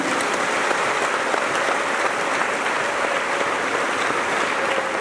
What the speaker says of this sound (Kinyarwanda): Dukomere amashyi menshi Imana mu mwanya nk'uyu